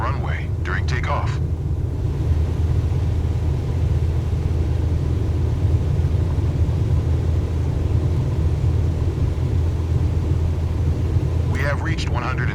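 Light aircraft engine roaring at full takeoff power in Microsoft Flight Simulator 2024, a loud steady low drone filling the whole stretch, with brief bursts of talk near the start and end.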